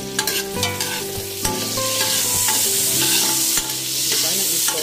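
Garlic sizzling loudly in hot oil in a pan for chicken curry, a steady close frying hiss with clinks of a stirring utensil at the start.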